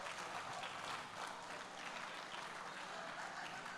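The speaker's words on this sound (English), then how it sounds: "Let's have a round of applause for those folks." A gala crowd applauds volunteers with steady, dense clapping throughout, moderately distant and even in level, with no talk over it.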